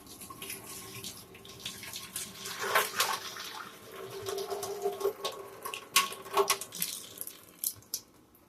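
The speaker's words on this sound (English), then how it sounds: "I'm going to bring this pot over here and drain it." Cooked gluten-free macaroni drained from a pot into a sink, a soft nearby pour and splash of water in uneven bursts with light patter, fairly quiet throughout.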